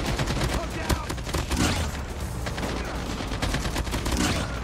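Rapid bursts of gunfire fill a Call of Duty Mobile match in Cranked mode, with loud, dense shots rattling almost nonstop and a voice occasionally talking underneath.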